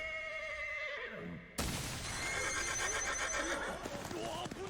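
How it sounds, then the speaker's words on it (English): A horse whinnies loudly in a shrill, wavering neigh, then a sudden burst of clattering, crashing commotion follows, as in a Viking-era battle scene from an animated series. "Oh shit, that's Thorfinn's horse."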